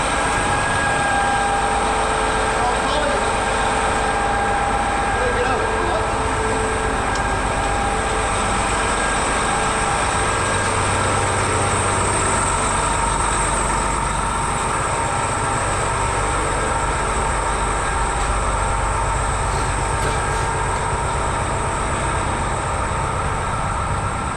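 A loud, steady engine drone from a Putzmeister high-rise concrete pump runs throughout, a continuous mechanical roar with no talking, rising slightly in intensity partway through as it is revved.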